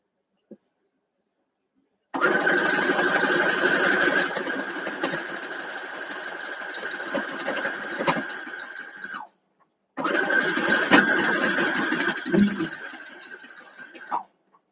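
Sewing machine stitching a quilt block, the Baking Day block for a Farm Girl Vintage quilt: a steady, close motor whir running about seven seconds, a brief stop, then a second shorter run.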